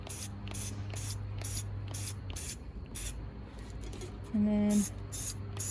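Spray can hisses out bursts of matte black all-in-one paint and primer onto a pencil tumbler, several short close sprays in a steady rhythm, with a brief spoken phrase between them.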